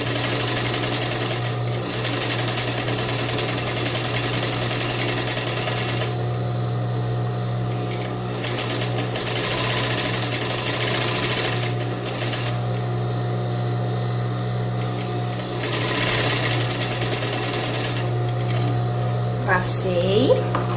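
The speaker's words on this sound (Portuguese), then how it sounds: "Agora eu vou passar a segunda costura, para que a gente consiga franzir." Sewing machine running a gathering seam on crepe fabric, bursts of close mechanical whirring alternating with quieter pauses over a steady low hum.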